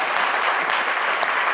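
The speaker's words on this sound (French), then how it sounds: "Waouh, ça s'applaudit quand même." Studio audience applause on a French-language midday talk show, a steady, bright burst of clapping lasting under two seconds, with a few sharper individual claps audible within the wash.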